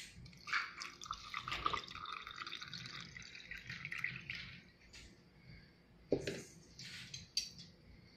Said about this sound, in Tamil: இன்னொரு கிளாஸில் பார்த்தீங்கன்னா வந்து நான் சர்க்கரை தண்ணி ஆட்